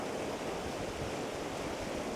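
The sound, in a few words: river rapids flowing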